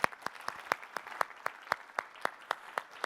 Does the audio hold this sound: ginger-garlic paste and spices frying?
no